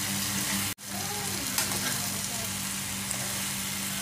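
Eggplant frying in a pan, a steady close crackling sizzle that drops out for an instant near the start and then resumes evenly.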